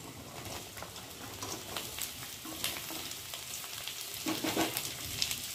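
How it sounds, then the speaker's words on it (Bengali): Cut potatoes fry with onions in oil previously used for frying fish, producing a steady moderate sizzle dotted with small crackles and pops. "এখন এই যে কেটে রাখা আলুগুলোকে দিয়ে ভালো করে একটু ভেজে নিই।"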